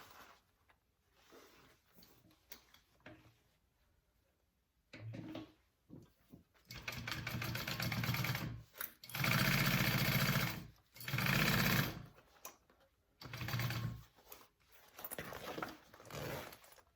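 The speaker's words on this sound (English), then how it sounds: "I'm going to sew that on, 1/4 inch seam allowance" A sewing machine stitches a quarter-inch seam on a bucket bag in several close bursts of steady whirring and rattling, separated by short pauses and quiet handling sounds.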